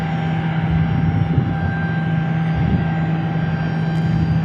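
Air National Guard F-16 fighter jets at Tucson International Airport, a steady droning engine roar with a sustained tonal whine, heard at moderate distance and continuous throughout with no talk.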